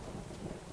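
A video-game lightning storm rumbles with a low, steady wash of thunder and rain noise, brief and fairly faint, no voices.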